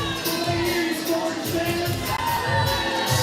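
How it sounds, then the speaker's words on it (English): Crowd noise from fans at an evening pro pickleball league match between the Tempe Tornadoes and Scottsdale Scorchers at the Orchard, a steady loud murmur with scattered shouts and whoops throughout. "The crowd is definitely into it here tonight at the Orchard."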